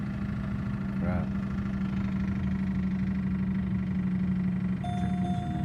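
Car engine idling rough with a steady low drone, its check engine and traction control lights flashing, heard close with a brief higher whine and a faint tone near the end.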